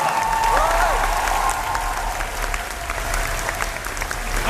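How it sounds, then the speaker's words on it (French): Warm applause from a talk show studio audience, a steady crowd clapping at a moderate level with a faint tone sounding near the start. "on l'applaudit bien fort"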